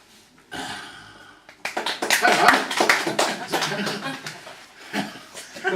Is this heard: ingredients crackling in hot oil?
no